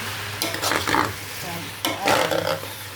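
Food sizzles and fries in a pan as it is stirred for a Somali rice and stew dish, with two bursts of scraping and hissing agitation over a steady frying background.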